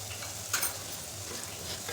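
Red chili powder, turmeric and salt being mixed into vegetables frying in a pan for a no-onion, no-garlic dish: a steady, close sizzle with a brief scrape of stirring about halfway through.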